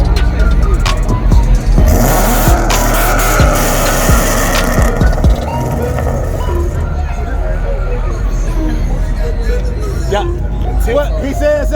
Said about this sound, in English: You hear that Mustang, man?